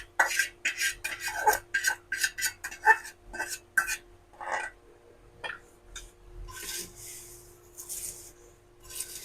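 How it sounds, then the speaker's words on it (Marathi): A spoon mixes hot tempering through poha chivda in a pan: quick, rhythmic dry scraping and rustling strokes, fairly close, thinning to scattered stirs after a short pause. "आता आपण पटकन ह्याला चिवड्यामध्ये मिक्स करून घेऊया"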